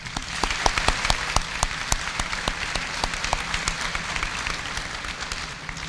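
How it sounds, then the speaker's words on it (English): A crowd at a high school graduation applauds steadily, many hands clapping in a dense, even patter that holds at a constant level for several seconds. "Please give him a round of applause."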